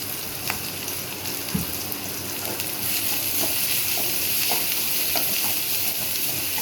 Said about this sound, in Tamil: பூண்டு வெங்காயமெல்லாம் வதங்கிடுச்சு